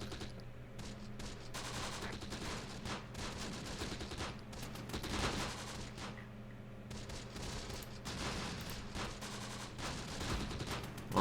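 An enemy .50 cal machine gun firing in the Close Combat video game, delivering sustained bursts of rapid shots that mix into a dense, continuous battle din, heard at moderate distance without any talking.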